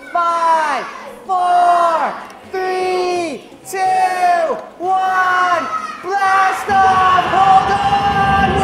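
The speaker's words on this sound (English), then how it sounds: "Up in the air, arms up, and scream!" A crowd of riders screams together on a roller coaster climb and drop, several loud sustained yells in bursts rising into a cheering roar at the end.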